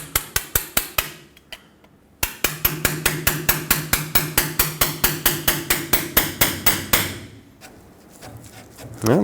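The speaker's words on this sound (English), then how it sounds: "so you have to chisel it" A hammer drives a chisel into the split of a rusty outer tie rod sleeve on a 2011-2016 Ford F-350, giving sharp metallic blows close up: a quick handful, a pause, then a long steady run of regular strikes.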